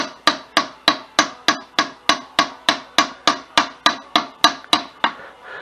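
Hard hammer blows striking a metal part with bearings, about sixteen evenly spaced, sharp, loud strikes close by, each ringing briefly before the next.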